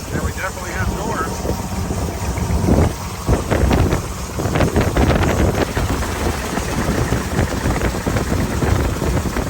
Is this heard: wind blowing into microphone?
yes